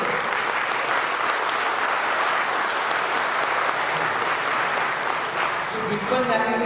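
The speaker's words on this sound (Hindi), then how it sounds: "इसके लिए जोरदार तालियां।" A seminar audience on blockchain and Bitcoin in Raipur breaks into loud, sustained clapping, a dense even roar that fills the room, with a voice beginning to speak near the end.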